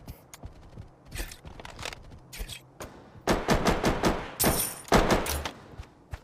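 Shotgun gunfire in a video game, a rapid run of loud, close blasts that grow into a dense burst of shots toward the end, with quieter clicks and steps between.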